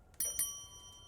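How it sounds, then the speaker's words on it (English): A bell rings in the video game The Seance of Blake Manor, with two quick bright strikes that leave a sustained metallic ring fading out quietly. "All right, now let's ring the bell."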